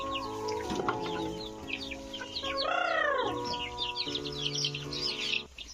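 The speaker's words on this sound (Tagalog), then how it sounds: "Magpapakain tayo ng mga manok." Several chickens cluck and a rooster crows close by, with steady chatter of other birds in the background.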